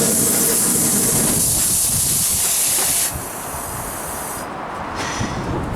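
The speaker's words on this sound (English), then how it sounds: "Set my burner on fire." A waste oil foundry burner firing on refined linseed oil roars with a loud, steady hiss that abruptly drops to a quieter, rougher rumble midway and continues alone.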